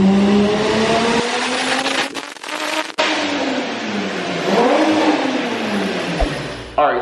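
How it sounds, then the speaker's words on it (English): Tuned car with a 6266 manifold revs hard on a dyno, a loud sustained engine roar rising and falling with brief dips and a sharp cut near the end, under a voice talking. "So, let's see some dyno pulls."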